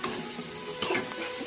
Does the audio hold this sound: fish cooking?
yes